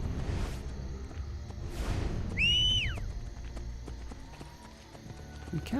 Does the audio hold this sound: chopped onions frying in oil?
no